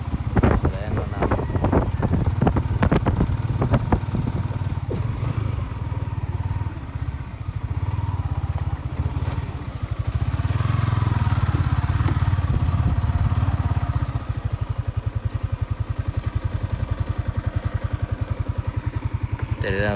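A motorcycle engine runs outdoors on a hilltop in Iligan City, a continuous throbbing drone with wind buffeting the microphone and someone talking over it.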